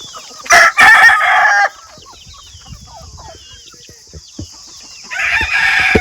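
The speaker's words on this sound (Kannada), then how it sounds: "ಮತ್ತು ಕೋಳಿಗಳು, ಕೋಳಿ ಮರಿಗಳು" Free-range country chickens cluck and a rooster crows loudly near the start, followed by softer scattered clucks and peeps of chicks, then another burst of crowing at the end.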